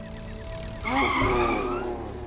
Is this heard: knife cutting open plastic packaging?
no